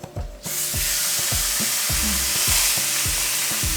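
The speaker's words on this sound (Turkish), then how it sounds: "Ve bunu ocağa tuzladığım ve karabiber attığım yere koyuyorum." A salted and peppered beef entrecôte steak hits the hot pan and breaks into a loud, steady sizzle that continues close and unbroken, with faint regular ticks running under it.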